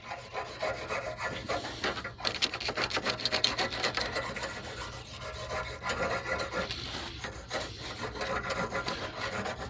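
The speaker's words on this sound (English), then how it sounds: "But we are going to run this brush through here at least." A brush scrubbing through a steering part on a Craftsman GT5000 lawn tractor makes a continuous rough, rasping scrape in quick back-and-forth strokes, close and fairly loud, with no talking.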